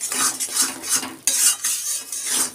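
Food is stirred in a metal kadai during home Bengali cooking. A spoon scrapes and clatters against the pan in quick, uneven strokes that come in bursts, loud and close, with a sharp knock partway through and no voices.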